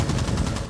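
Gunfire in a first-person shooter video game, a loud, dense burst of rapid shots lasting under a second.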